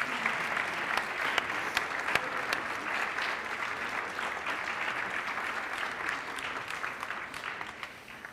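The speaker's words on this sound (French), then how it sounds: "Applaudissez-la." An audience at a school prize-giving ceremony applauds an absent history-geography teacher, steady massed clapping in a hall, moderately distant and even in level for several seconds, with no talking.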